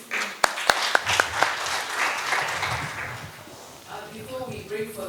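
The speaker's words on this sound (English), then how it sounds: "Let's give him a round of applause." Audience applause at a regional committee conference in Kampala, Uganda, opening with a few sharp claps that swell into a moderate spread of clapping, then fading under murmuring voices toward the end.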